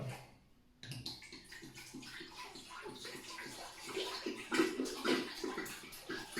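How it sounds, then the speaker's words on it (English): About two liters of water pour steadily into a large cooking pot in a home kitchen, a continuous gurgling splash that starts abruptly and grows slightly louder as the pot fills. "I will put my 2 liters of water"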